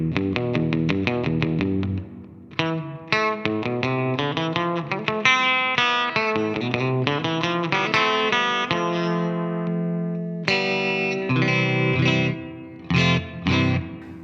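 A Telecaster is played through a Fender Mustang Micro headphone amp with reverb, giving a run of plucked notes and strummed chords with short pauses and ringing decays, alone and without talk.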